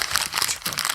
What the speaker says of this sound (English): I need to crumple up your email to do this.